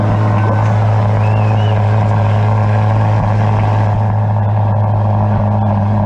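A 2023 Chevrolet Corvette C8 Z06 idles steadily, its mid-mounted engine a loud, constant low drone at Road Atlanta, with a slight change in tone toward the end.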